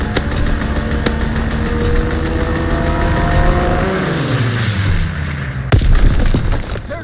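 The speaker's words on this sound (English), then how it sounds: "Strafing run inbound." A loud aircraft engine drones through a strafing run in a video game, its pitch sliding steadily downward as the plane passes, with sharp impacts punctuating the roar near the end.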